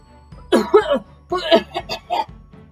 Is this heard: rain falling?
no